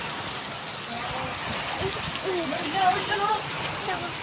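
Steady rain pours down as a dense, even hiss close by, with water running and a voice talking faintly underneath.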